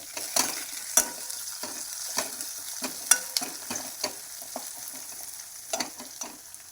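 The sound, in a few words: bay leaves sizzling in hot oil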